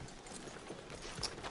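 Horse hooves clip-clop in a quick, steady rhythm over a soft, noisy background in a PS4 video game.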